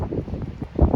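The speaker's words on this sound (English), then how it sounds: "I know it's super windy" Strong wind in the Arizona desert buffets the microphone with a loud, gusty low rumble, brief and continuous.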